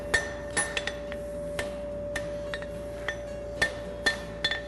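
Sharp, ringing metallic taps, a dozen or so at irregular intervals, as a hammer strikes a steel horseshoe bar while a Z bar horseshoe is shaped, each hit close and bright over a faint steady hum.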